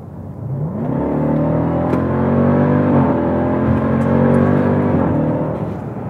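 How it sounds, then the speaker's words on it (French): A 6.2-litre supercharged HEMI V8 engine of a Jeep Grand Cherokee Trackhawk revs up and holds a deep, steady roar with rising and falling pitch, loud and close, no talking. "Alors ce moteur, déjà, il a une sonorité."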